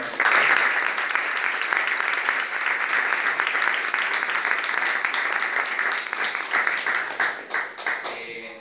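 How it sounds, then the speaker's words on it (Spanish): An audience gives strong applause at a human rights and politics talk, with dense, steady clapping that holds at full strength before thinning into scattered claps near the end. "Un fuerte aplauso"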